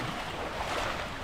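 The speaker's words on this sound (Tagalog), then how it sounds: "Malakas na naman ang baha, mga kaibigan." Strong floodwater rushes in a steady, dense wash of noise from a swollen river during a typhoon, continuous and fairly faint, with no voices.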